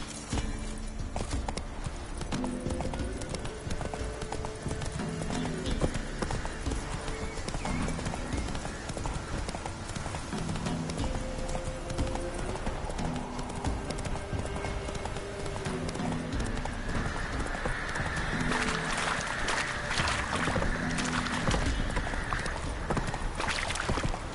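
Hooves clip-clop in a steady galloping rhythm as a horse runs in The Witcher 3, with game music and ambience running underneath for the whole stretch.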